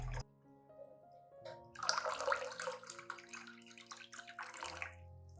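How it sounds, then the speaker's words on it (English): Clean water, about one liter, pours steadily into a homemade banana peel and eggshell fertilizer solution, starting after a brief pause and running as a continuous close splashing stream for several seconds. "Finally, add 1 liter of clean water to dilute the solution."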